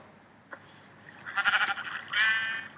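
Sheep bleating in the Minecraft video game with a morph mod, several wavering bleats in quick succession, fairly loud and close with no talk over them.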